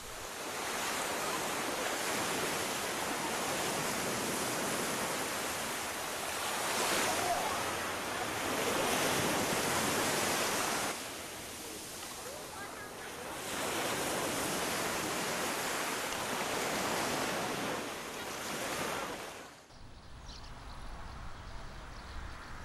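Surf breaking on a wide, lightly developed beach on Portugal's Alentejo coast: a steady roar of waves swelling and fading in long surges, loud and close, ending abruptly in quieter wind-blown background.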